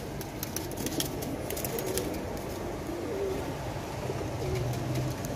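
Pigeons coo softly and repeatedly in a loft, with low rounded calls recurring throughout over a steady background and occasional faint flutters.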